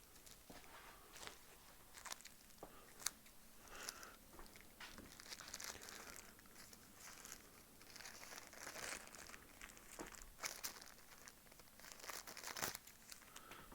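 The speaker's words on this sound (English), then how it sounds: "Let me get some scissors so I can open these little bags." Quiet crinkling and rustling of small thin plastic bags being cut open with scissors, with scattered soft tearing and snipping noises, close by and intermittent.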